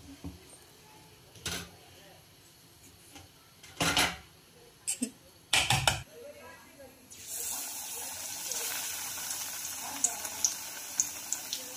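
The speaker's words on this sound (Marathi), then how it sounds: "तर अशाच पद्धतीने आपण एक एक करून पकोडे तळून घेऊया।" Spinach pakoras deep-frying in oil: a few sharp clattering bursts early on, then a steady, loud sizzling hiss that fills the second half.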